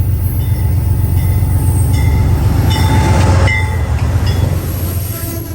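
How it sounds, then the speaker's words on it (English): An Amtrak Midwest passenger train led by a GE P32-8 BWH diesel locomotive passes close by near the BNSF yard at Galesburg, a loud steady rumble of engine and wheels with faint squeals and clicks. "This is a GE P32-8 BWH. The passenger variant of the B40-8W."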